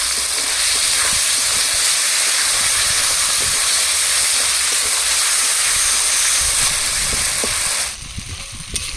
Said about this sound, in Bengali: মশলাগুলো এখনো 2-3 মিনিট ভালোভাবে কষিয়ে নেব।